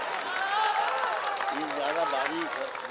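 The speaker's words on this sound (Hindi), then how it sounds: "सब लोग ताली बजा के बताएं तो मैं पढ़ूं।" Audience applause at an all-India mushaira and kavi sammelan in Motihari, steady clapping from a crowd throughout, with someone speaking over it.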